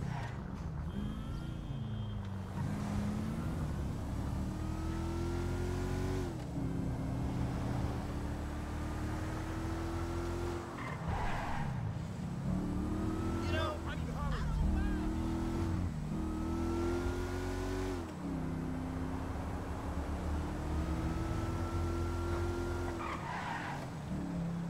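A Toyota Fortuner's engine in the GTA V video game, a continuous droning hum that rises and falls through repeated gear shifts and accelerations while driving, steady and moderately loud for the whole stretch.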